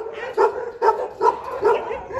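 Dogs bark at a large kennel housing Dobermans, Labradors and other breeds, five sharp, evenly spaced barks close by, loud and alone with no talking over them.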